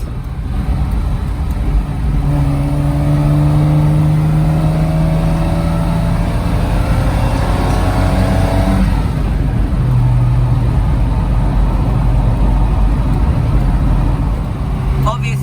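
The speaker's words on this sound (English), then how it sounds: "the sound of the glorious straight-six engine" A 1961 Aston Martin DB4 Series III Superleggera straight-six engine revs loud and close, its rising and falling tone sweeping up through the middle before it settles into a steady idle rumble.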